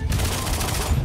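Dense, continuous burst of rapid gunfire from the video game Lawbreakers, loud and close with no pause across the short stretch.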